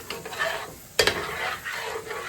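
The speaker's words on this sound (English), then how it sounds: "I'm gonna stir the pot." A spoon stirs a pot of sauce piquant, a Cajun gravy, over the heat. There is a soft scraping swirl with a sharp clink about midway, and a gentle sizzle runs underneath.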